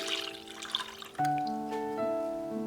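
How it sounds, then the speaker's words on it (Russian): Milk poured into a saucepan for a custard cream, a thin liquid stream splashing and trickling steadily and close by, with a ringing tonal hum in the background. "Для крема выливаем в сотейник 500 мл молока."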